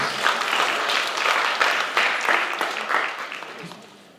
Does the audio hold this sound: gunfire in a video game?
no